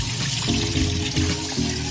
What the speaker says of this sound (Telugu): ఇప్పుడైతే ఇంకొన్ని చల్లటి నీళ్ళు కలుపుకోవాలి